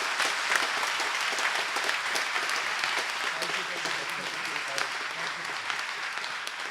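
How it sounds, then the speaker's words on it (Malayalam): Steady applause from a church congregation honoring a priest after his first Holy Mass, a dense crowd of clapping hands held at an even level throughout with no pause. "നമുക്ക് നല്ലൊരു കയ്യടി കൊടുത്ത്"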